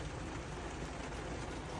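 Heavy rain falls during a downpour that floods the house, a dense, even hiss that holds steady throughout and sounds fairly faint.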